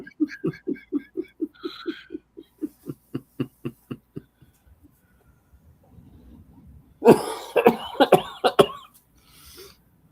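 A long run of rapid, rhythmic coughs, close and loud, followed by a pause and then a harsher, noisier burst of coughing and throat sounds.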